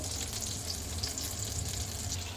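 Two tablespoons of butter sizzle in a frying pan on its own, a dense and steady crackling hiss that stays close and even throughout.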